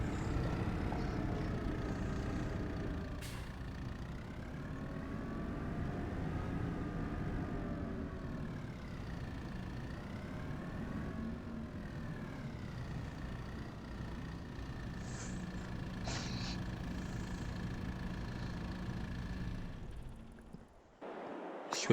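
A tractor engine idles steadily in Farming Simulator 22, a low continuous rumble with a droning hum lasting about twenty seconds before cutting off near the end, with no talking.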